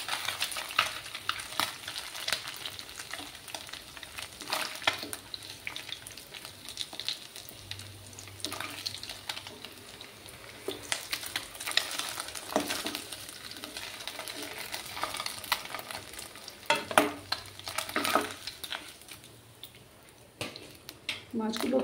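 Small tangra fish fry in hot oil in a pan, giving a steady low sizzle with scattered crackles and a few louder pops, faint and close, with brief scraping sounds now and then.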